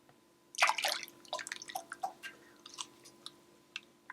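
Beaten oatmeal cookie batter poured back into a mixing bowl, making soft wet plops and drips up close, clustered at first and then thinning into scattered quieter drops.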